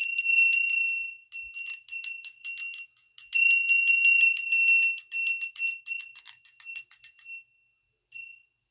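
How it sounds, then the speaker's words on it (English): A small new cleansing bell rings bright and high, struck repeatedly in quick clusters of tinkling chimes, close and clear with brief pauses and a final lone ring. "Now I'm going to cleanse a little bit further with my new bell."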